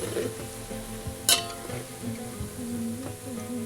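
Onions being stirred in hot oil, with soft frying sizzle, a sharp clink of a utensil against the pan, and scraping stirs throughout; close and fairly quiet.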